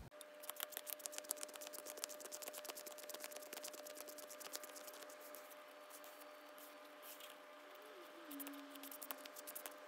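A deck of Yu-Gi-Oh cards being shuffled, with dense rapid ruffling and flicking at close range, steady throughout with faint background hum.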